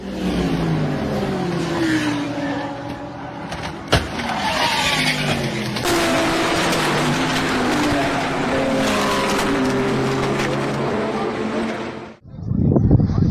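Race cars thunder past on the front straightaway during a big wreck, with loud, shifting engine notes, a sharp impact bang, and sustained roaring that cuts off abruptly near the end.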